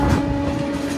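The Shirdi–Kakinada Port Express rolls into a station near Tadepalligudem with a steady low rumble and a sustained mechanical hum, heard close and loud for a brief moment, with no voices.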